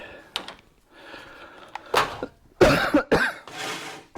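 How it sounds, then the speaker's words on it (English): Several harsh coughs and throat-clearing hacks in close succession, loud and near, with quieter rustling and faint murmuring before them. "Cough, cough, hack, hack."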